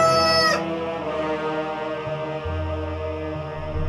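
A rooster crows in an animated Bible story cartoon, a loud bright call at the very start that cuts off quickly, followed by a sustained musical tone.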